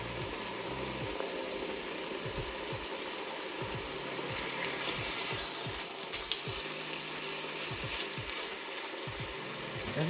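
Thin pieces of chicken breast frying in a pan, a steady close sizzle with light crackle and occasional soft knocks and scrapes of the pan, no voices.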